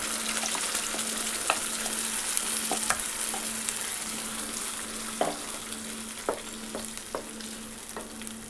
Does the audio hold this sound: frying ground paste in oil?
yes